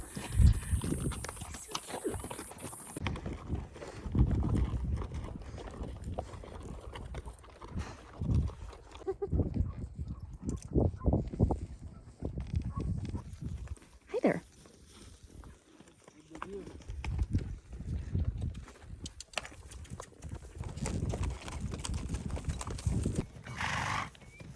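Horse hooves clip-clop steadily through a horseback ride outside Santiago, Chile, with occasional neighs and whinnies from the horses, while riders chat over the hoofbeats throughout.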